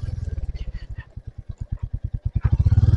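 A Royal Enfield Hunter 350 single-cylinder 350 cc motorcycle on the move, its engine thumping in a steady, rapid low pulse that slows briefly mid-way and then quickens and grows louder near the end.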